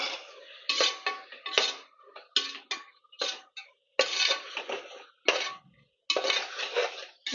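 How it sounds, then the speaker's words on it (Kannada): Chopped tomatoes tipped into a pressure cooker pan for egg biryani, a series of close, sharp scraping and clattering bursts of spoon against metal with short pauses between. "ಟೊಮೊಟೊ ಹಾಕ್ತಿದ್ದೀನಿ."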